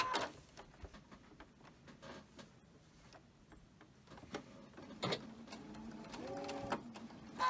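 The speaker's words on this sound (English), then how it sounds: "So let's just go ahead and chain stitch these." A sewing machine chain stitching pieces of a quilt block, its needle running in short quick bursts with pauses between, faint and close, with no talking.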